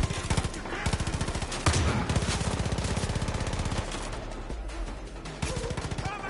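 Rapid automatic gunfire from Far Cry 5 combat while a cougar is being shot at, loud bursts of repeated shots rattling close with brief pauses and a few scattered single shots.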